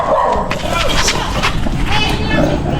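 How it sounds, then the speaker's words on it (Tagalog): Dog barking close by on a street, with people talking loudly over it throughout. "Makakagat pa tayo ng aso dito."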